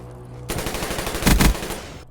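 Call of Duty Black Ops 3 gunfire erupts suddenly after a quiet moment, a dense rapid automatic burst with heavier booming shots in the middle, loud and close, no voices.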